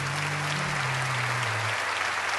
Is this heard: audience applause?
yes